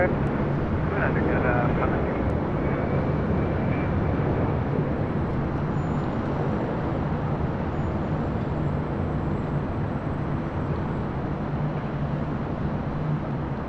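A jet airplane taking off from runway 24 left at LAX, a loud, continuous roar of engines at full thrust rumbling steadily throughout, with radio voices in the background.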